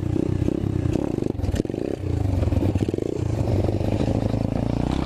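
An Apollo 125cc dirt bike engine runs loud and close, with a steady rough drone and revving swells, a brief dip in the middle, and mechanical clatter over it.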